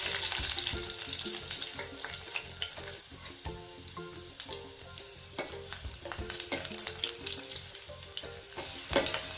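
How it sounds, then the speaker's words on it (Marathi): Mustard seeds and broken garlic cloves crackle and spit in hot oil, a continuous busy sizzle dotted with sharp pops and occasional stirring, fairly quiet overall with no voices. "तेल गरम झाल्यानंतर आपण त्यात एक चमचा मोहरी घालणार आहे मोहरी आपली तरतडी"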